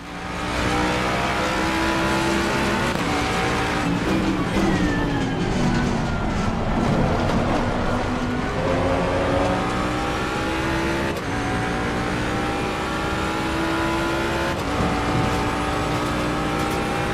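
Mustang GT3 race car engine in Assetto Corsa Competizione at Bathurst, a loud, continuous roar that climbs and drops through gear changes while other cars battle nearby, with no voices.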